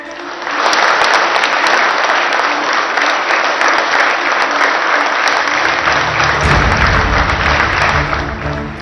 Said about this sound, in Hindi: भारत माता के जयकारों और तालियों की गूंज